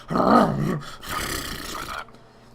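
A voice imitating a bear, two rough growling roars in succession, close and loud, with a short pause between them.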